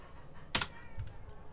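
A Minecraft command typed on a computer keyboard: a single quick burst of key clicks, fairly close but quiet, with a soft thump after it.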